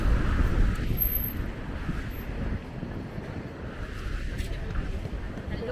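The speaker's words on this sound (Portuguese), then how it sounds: "aqui realmente tá ventando" Gusty wind buffets the microphone on the seaside boardwalk from Leblon to Ipanema near posto 9, a loud, continuous low rumble with slight swells throughout.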